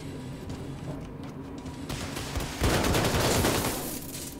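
Shotgun blasts fired at a robot in the video game Wolfenstein II, loud, dense bursts of gunfire with a sustained roar of impacts in the latter half, with no talk over it.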